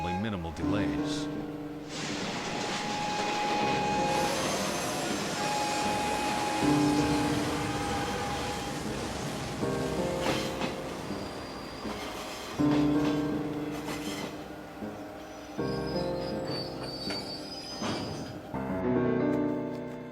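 A train rolls along rails with a steady rumble and clatter, joined by several high squeals from the wheels, while people talk over it in a dubbed anime scene.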